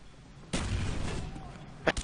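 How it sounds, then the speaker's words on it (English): A frag grenade goes off in the Black Ops shooter game: one mid-loud blast with a rumbling low tail lasting over a second, followed near the end by a couple of sharp, close pops. "Throwing frag."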